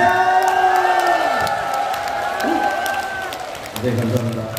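Applause and cheering from a studio audience at a singing class show for a dance-pop singer, a broad crowd roar with whoops, loud and sustained, with a sung or held voice tone running over it and music returning near the end.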